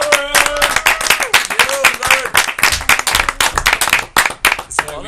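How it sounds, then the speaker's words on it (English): A small studio audience at a Chelsea football fan show claps in a loose, uneven burst, with voices calling out early on and sharp individual claps standing out. "Big round of applause for Lauren!"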